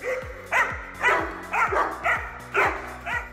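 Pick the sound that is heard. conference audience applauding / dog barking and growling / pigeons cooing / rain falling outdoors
dog barking and growling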